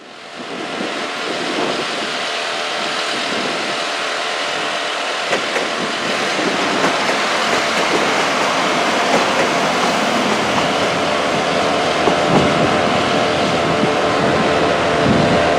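A train at Llanelli railway station gives a steady, loud rumble with rushing wind across the whole span, no talk over it.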